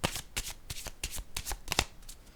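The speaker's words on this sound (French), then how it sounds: "Je vais déposer une carte sur la lumière." Playing cards being shuffled close up, a quick run of crisp riffling bursts repeating at an uneven rhythm, with no other sound.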